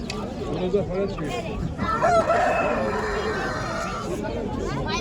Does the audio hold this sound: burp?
no